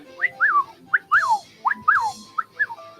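Pet bird whistling indoors, a run of clear, close, rising-and-falling two-note whistles repeated about five times in quick rhythm, with a soft chirp between some of them.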